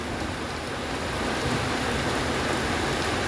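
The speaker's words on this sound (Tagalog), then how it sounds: "Lakas ng ulan." Downpour drums hard and constantly near a restaurant, a thick, close wash of rain noise, unbroken and loud.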